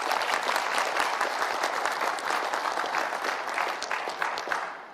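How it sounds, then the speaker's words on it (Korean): An audience at a Korean forum on hydrogen hubs and green industrial parks applauds the governor of South Jeolla Province. Thick, steady clapping gradually thins and fades toward the end. "김영록 전남도지사님께 다시 한번 큰 박수 부탁드립니다"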